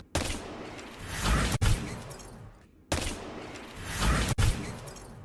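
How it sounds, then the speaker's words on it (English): Two weapon shots fired inside Mind Lab on Mars in Destiny 2, each a loud blast followed by a sustained rumbling echo that ends in a sharp bang-like crack, spaced a few seconds apart. "you've got this kind of weird follow-up echo type thing, almost like a bang"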